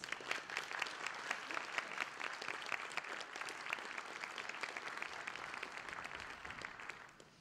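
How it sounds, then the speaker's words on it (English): An audience at a mayoral runoff debate claps for the candidates, a crisp sustained round of applause that keeps an even level and then fades out at the end. "Let's give our candidates one more round of applause."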